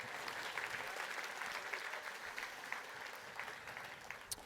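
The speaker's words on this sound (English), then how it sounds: "let's go ahead and applaud ourselves one big time" An audience claps steadily, a dense wash of applause that keeps going for several seconds without cheering or voices rising above it.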